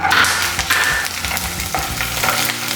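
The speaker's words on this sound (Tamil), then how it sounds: "உளுத்தம் பருப்பு செவந்ததுக்கு அப்புறமா நம்ம பூண்டு சேர்த்துக்கலாம்." Garlic added to urad dal, chana dal and curry leaves sizzling and crackling steadily in hot oil, with occasional stirring scrapes throughout, close and fairly loud with no talk.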